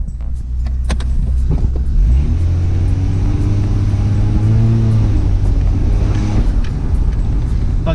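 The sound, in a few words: Toyota Mk3 Supra barn find car being driven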